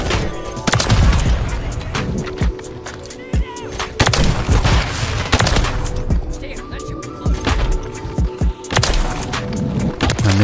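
Sniper rifle shots ring out in a Call of Duty Modern Warfare 3 match, several loud sharp cracks spaced irregularly over ongoing game noise and clatter, with no talk.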